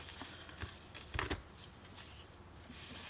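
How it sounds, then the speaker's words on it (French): A scrap of cardboard is handled during a scrapbooking craft project, with light papery rustles, scrapes and a short cluster of crisp taps near the middle, close and fairly quiet. "je vais me trouver une chute de carton"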